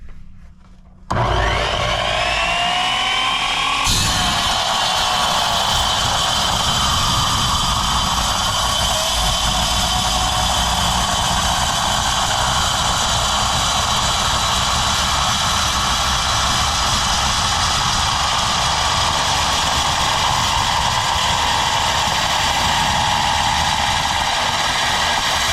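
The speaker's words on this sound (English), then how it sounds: "let's put our safety glasses on and see what this old worm drive saw can do" An old worm drive circular saw, built for wood, cuts through inch-square steel stock, starting with a brief spin-up and then a loud, steady, harsh grinding whine that holds continuously, close and alone without speech.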